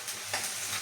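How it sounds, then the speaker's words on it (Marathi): Cumin seeds hitting hot oil in a home kitchen pan, a short steady sizzle that flares into a louder hiss at the end, close and alone with no talk. "थोडंसं जिरं टाकूया"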